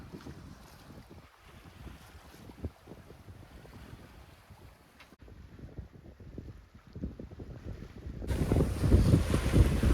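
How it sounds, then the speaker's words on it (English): Strong wind of about 18 to 19 knots roars across a sailboat cruising offshore toward the Chesapeake Bay. It makes constant gusty microphone rumble with water washing against the hull, and it grows louder and harsher toward the end. "Wind has picked up even more."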